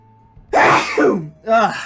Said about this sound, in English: So I need to sneeze, so I'm sorry if I have to sneeze.